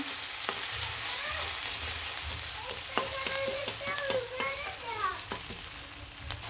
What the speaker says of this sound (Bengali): এখন কিন্তু বুটটি ভেজে নিব, আর কুচি কুচি দিয়ে দিলাম গরম তেলে